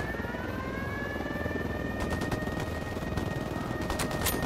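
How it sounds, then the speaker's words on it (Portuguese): A steady helicopter rotor drone hums through a scene in the video game Tom Clancy's Ghost Recon Wildlands, joined by scattered bursts of distant gunfire in the second half. "Esse helicóptero aí, mano."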